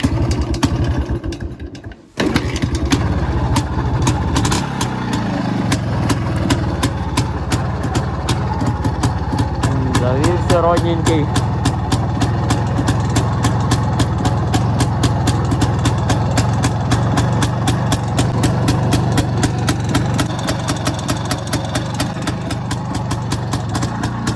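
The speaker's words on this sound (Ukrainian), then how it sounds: "Зараз заведемося, прогріємося і будемо їхати." An IZh motorcycle engine starts after a brief silence, then idles steadily and loudly with a fast, even putter as it warms up on an autumn ride day.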